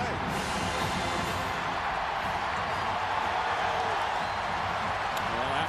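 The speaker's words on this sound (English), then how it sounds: "what was a relatively quiet crowd is now making some noise." A football stadium crowd at a 2004 Tennessee vs Kentucky game, a steady, distant roar that swells slightly under a broadcaster's talk.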